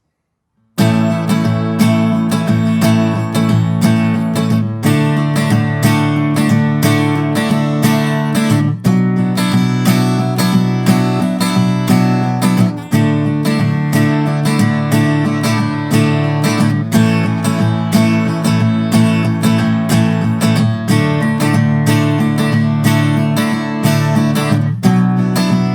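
An acoustic guitar strums the chords of a song in a steady, full-sounding rhythm with regular chord changes. The guitar plays alone and close for about 25 seconds.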